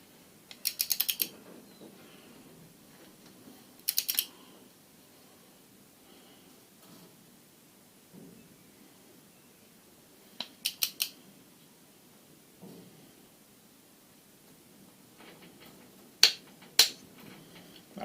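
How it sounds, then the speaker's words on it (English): Ratchet wrench tightening the cylinder head bolts on a John Deere 410 backhoe engine during a rebuild, heard as short, quiet bursts of rapid clicking spread across a mostly hushed workshop, with a pair of sharper clicks near the end. "So I'm going to start tightening these down"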